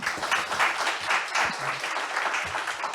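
Audience at a conference forum on the cyber insurance market applauds steadily, a continuous patter of claps at moderate level lasting a few seconds with no talk over it.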